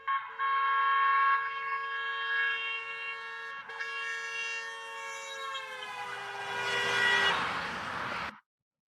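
A car sounds its horn steadily as it approaches and passes, the sustained tone rising in loudness, then sliding lower in pitch as it moves away before cutting off abruptly.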